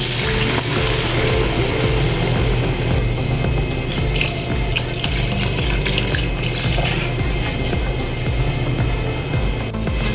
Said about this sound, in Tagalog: Maglalagay tayo ng 2 cups ng tubig.